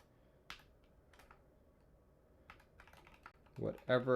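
A second computer keyboard being typed on in a few sparse, quiet clicks, followed by a louder burst of keystrokes near the end, close to the mic.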